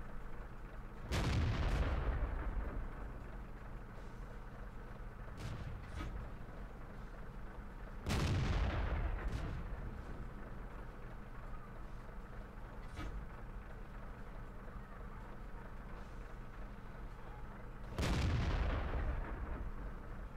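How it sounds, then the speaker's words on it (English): Heavy artillery shells in the tank game World of Tanks boom out three times at spaced intervals, each loud blast followed by a rolling decay, over a steady low battle rumble with scattered fainter impacts. "Our artillery finishes off that T-49"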